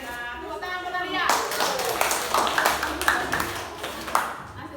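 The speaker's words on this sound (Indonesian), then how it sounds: "Tepuk tangan buat Nadia." A group of students in a classroom bursts into clapping after a presentation, a moderately loud patter that continues steadily for several seconds after a voice fades out.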